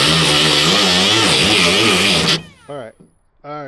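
A Bosch 12V right angle grinder cuts into a piece of trim with a loud, close, sustained high-speed whine and grinding that wavers under load, then stops abruptly and a voice speaks.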